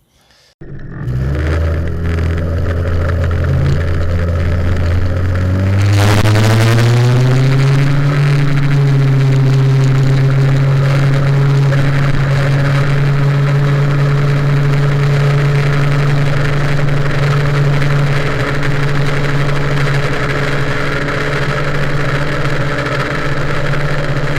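An MBK 51 moped engine with a tuned carburetor and the choke on starts up, rises in a brief rev, then settles into a loud, steady nearby idle that carries on alone for many seconds.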